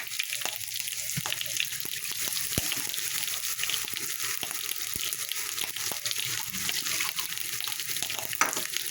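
Water poured into a pan of village-style Bengali fish curry with chili powder, giving a steady, continuous hiss and sizzle with faint clinks, close and even throughout, with no talking.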